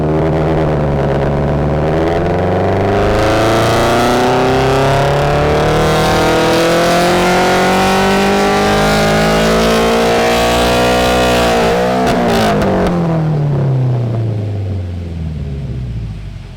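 A turbocharged Toyota GR86 revs hard on a dyno. The engine roars loud and close with a steady climbing pitch, then winds down at the end of the pull.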